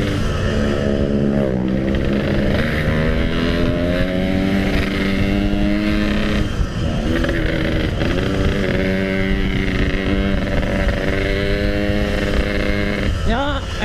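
A Yamaha RX King two-stroke motorcycle with an aftermarket exhaust revs and rides, its loud, buzzing engine rising and falling in pitch through repeated throttle blips and accelerations, close and continuous with wind noise.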